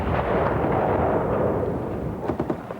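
Covering gunfire during a combat assault by infantry moving in behind it, a dense, continuous roar of rumbling fire with several sharper reports near the end, sounding sustained and fairly loud.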